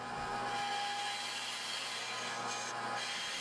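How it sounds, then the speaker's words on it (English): A bandsaw notches a hole through a block of walnut, giving a steady, close, broadband cutting whine with a constant motor hum underneath, running evenly for a few seconds. "Then at the bandsaw, I could notch out that hole."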